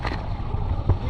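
A steady low boat engine drone runs throughout, with wind buffeting the microphone and a brief louder thump near the end.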